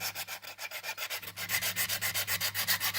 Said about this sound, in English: sanded down where the coating is removed so the solder will stick to it